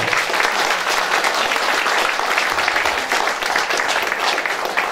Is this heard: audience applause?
yes